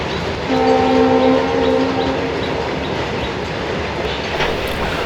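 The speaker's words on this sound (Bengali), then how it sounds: "ট্রেন কিন্তু ওদিকেই যাচ্ছে, শিলিগুড়ির দিকে।" A train near Mongpong, heading toward Siliguri, sounds a loud sustained horn blast near the start, then its rolling rumble carries on steadily through a damp green landscape.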